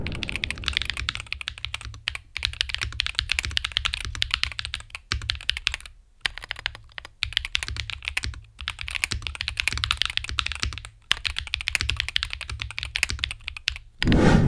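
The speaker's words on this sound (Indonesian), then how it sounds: "kita dengar dulu sound testnya sebagai berikut" A Pulsar PCMK 2 HE keyboard typed on at steady speed, dense close clacking keystrokes in long runs, broken by a few short pauses, over a low constant hum and with no talking.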